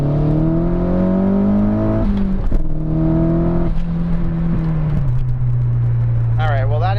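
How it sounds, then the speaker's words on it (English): A car climbs through its gears merging onto a highway, the engine note rising and dropping with each shift, loud and close, under someone talking. "We're getting on the highway, so I'm going to try and, you know, just catch up to traffic a little bit."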